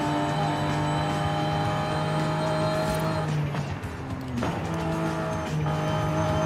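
A BMW i8 in the video game Forza Horizon 5 drives hard, its engine droning steadily. The pitch shifts as it works through gears, with a brief dip partway through before it climbs back up.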